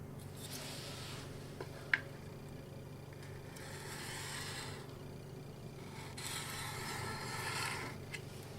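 A kitchen knife is drawn across a diamond sharpener in several soft, raspy strokes, each lasting about a second, with a small click partway through. The sound is close and fairly quiet, with no talk.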